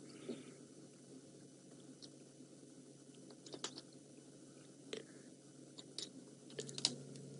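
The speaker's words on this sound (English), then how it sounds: "that's a head that is being crunched like that" A male leopard named Tingana crunches the head of its kill, quiet irregular cracking and chewing crunches heard faintly from a distance over a steady hiss, growing sharper toward the end.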